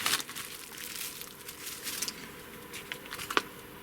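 A parcel of model locomotive parts for a Broadway 2-10-4 engine being unwrapped, with close, irregular crinkling and rustling of packaging in short bursts, one sharper crackle near the end, no talking.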